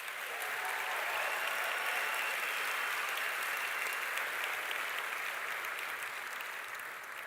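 An audience at a Stellenbosch University graduation ceremony applauds musicians as they leave the stage, with steady, dense clapping that fills the hall at an even level throughout, and no talking.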